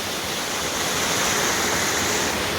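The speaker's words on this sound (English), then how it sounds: "Over there's that little waterfall you can't see tucked inside." A small waterfall at Caboolture River Falls in Queensland, tucked out of sight, gives a constant, dense rushing wash of falling water, steady and fairly close with no other sounds.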